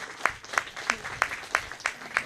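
An audience at a theatre foundation award ceremony in Ahmedabad claps in a quick, even rhythm, about seven sharp beats in a row over a faint room background.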